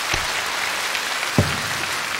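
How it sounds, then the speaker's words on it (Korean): Steady applause from the audience at a 2001 Korean TV singing contest final, a continuous patter of clapping with a couple of louder thumps standing out. "박수 한번 더 받으려고 이러는 거예요"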